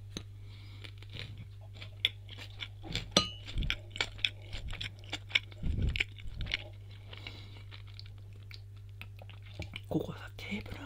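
Close-up chewing of a boar-shaped donut, with scattered soft crunchy bites and small mouth clicks in irregular rhythm over a steady low hum, plus a few faint clinks and whispery sounds.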